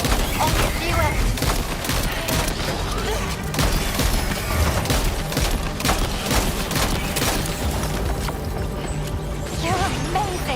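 Sustained gunfire in Death Stranding 2, rapid overlapping shots forming a dense, continuous fusillade with clanking mechanical noises and a voice speaking over the battle.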